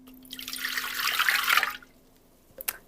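Water pouring into the pan of a Panasonic bread maker for gluten-free bread, a close, steady splashing pour lasting over a second before tapering off, followed by a couple of light knocks.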